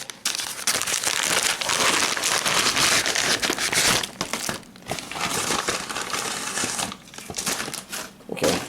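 Crinkly plastic wrap is torn and crumpled off an anime Blu-ray case by hand, a dense, loud, continuous crackling with a few brief pauses, close to the mic and with no voices.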